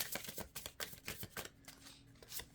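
A deck of cards being shuffled during a tarot-style reading, giving a series of quick riffling bursts and soft flutters at close range with no talking.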